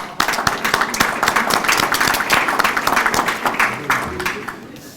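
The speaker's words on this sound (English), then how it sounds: "So thank you, and let's give them applause." Audience applause at a Veterans Day program held by an American Legion post, a loud sustained burst of many hands clapping that starts abruptly and tapers off near the end, with some voices mixed in.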